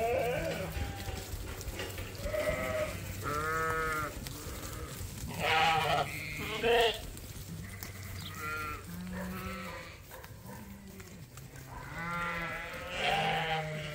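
Sheep on a farm bleat repeatedly, several overlapping calls from a flock at moderate distance over a steady outdoor background, on a warm day, with no one talking.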